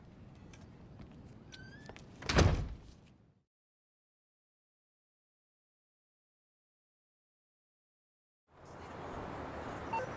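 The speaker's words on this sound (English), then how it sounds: "Close the door on your way out." A door in the video game GTA V swings and shuts with a solid thud, followed by near silence and then a wash of ambient room noise; faint sounds precede the closing.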